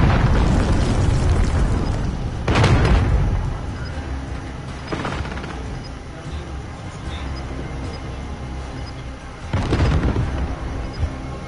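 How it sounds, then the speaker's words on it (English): Enemy cruise missile explosions in a Call of Duty video game, three heavy booms with long rumbling tails at intervals over a constant roar of battlefield noise. "Enemy cruise missile incoming."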